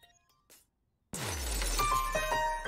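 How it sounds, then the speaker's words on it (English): Sharp shattering, glassy impact effect from the Fire Pro World wrestling video game intro, with a sudden loud crash after quiet, then a sustained ringing, metallic tail. "Here comes that ice pick noise effect."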